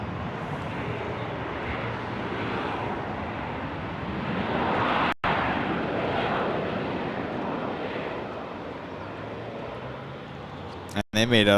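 Southwest airliner coming in at San Jose Airport, a broad, steady roar of jet engines sustained throughout, with a person talking over it.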